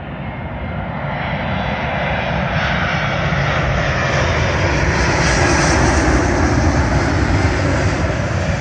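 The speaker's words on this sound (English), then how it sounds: "Arriving in now is another British Airways Boeing 777, this time from Dubai to London Heathrow." British Airways Boeing 777 from Dubai landing at London Heathrow runway 27L, a loud, steady jet roar that swells slightly and holds close and continuous throughout, with no voices.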